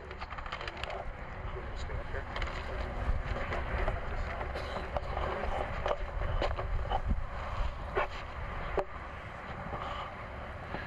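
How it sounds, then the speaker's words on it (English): Steady wind buffets a microphone outdoors at an open-air gathering, a continuous low rumble and rush throughout, with a voice talking over it. "It's a little breezy up here"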